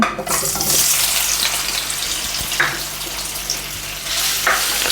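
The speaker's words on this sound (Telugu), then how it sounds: "ఇప్పుడు పన్నీర్ పీస్ ఫ్రై అండి" Paneer pieces fry in a pan for a kaju paneer curry, giving a steady sizzle that swells and eases, with a few soft scrapes and clinks close by and no talking.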